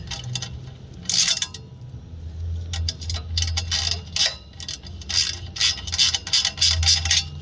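A ratchet clicking as an exhaust clamp bolt is lightly tightened on a 2020 Triumph motorcycle during a titanium exhaust install: rapid, bright bursts of clicks in uneven runs over a low steady hum.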